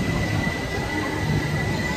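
Mine train roller coaster at Magic Kingdom, a steady rumbling rattle of coaster cars on track with faint wheel squeal, loud and continuous with no talking.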